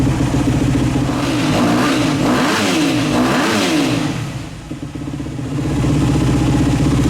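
A 125XC dirt bike engine revs hard on a test ride, loud and close, with two rising and falling throttle sweeps in the middle and a steady buzzing drone before and after.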